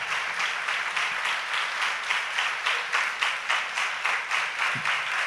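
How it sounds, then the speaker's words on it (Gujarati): A crowd of devotees at a Swaminarayan religious discourse bursts into sustained applause, hundreds of hands clapping in dense, steady waves that swell and fade in a rhythmic pulse, with no speech over it. "હજારો તાળીઓથી પૂજ્ય ભક્તિ સ્વામીને વધાવો"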